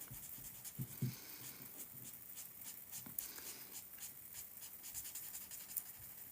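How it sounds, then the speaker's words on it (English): A pen scratches and strokes while coloring in a pickleball-themed planner drawing, faint close-up scribbling taps in quick irregular bursts, with a dog's soft panting and movement nearby. "we're going to color this one in as well"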